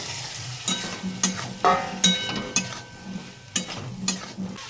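Boiled potatoes being stirred into a sizzling spice masala for aloo dum, with soft frying crackle under repeated sharp scrapes and clinks of a spoon against the pan.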